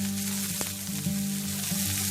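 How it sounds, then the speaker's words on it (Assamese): Chopped onions sizzle steadily in hot oil as the base for an Assamese egg curry, a continuous close frying hiss with a brief stir clatter partway through and no talking. "পিঁয়াজখিনি ৰঙা পৰ্যন্ত আমি ভাজিম।"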